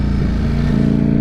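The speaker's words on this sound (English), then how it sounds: "sound that this damn V4 makes" Ducati Streetfighter V4 motorcycle with its V4 engine on the stock exhaust, a loud, steady, throaty rumble held close by for about a second with no speech.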